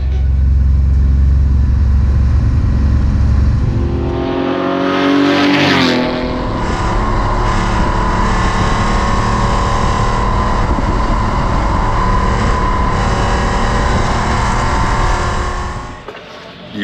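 A car laps the Rockingham race track. A loud, steady engine roar dips and sweeps during a gear change, then holds a sustained high drone that fades near the end.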